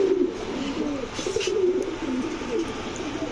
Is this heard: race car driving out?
no